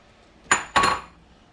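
A spoon knocks twice against a pot of curry chicken legs with garlic and red peppers, two quick close metallic clinks about a quarter second apart over a quiet kitchen background.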